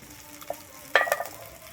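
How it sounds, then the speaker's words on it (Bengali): Spice paste with cumin powder frying in a pan for a Bengali doi katla fish curry, heard as a short burst of sizzling and stirring near the middle against a quiet background. "আমার এই মশলাটা কিন্তু খুব ভালোভাবে ভাজা হয়ে গেছে আমি এরপরে দিয়ে দিচ্ছি এখানে জিরে গুঁড়ো এক চামচ"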